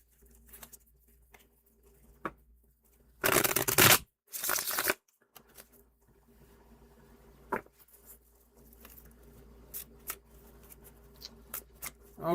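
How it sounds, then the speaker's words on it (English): Tarot cards being shuffled by hand, with two loud bursts of riffling close by and quieter scattered card handling and soft taps across the rest. "I'm having a hard time shuffling today."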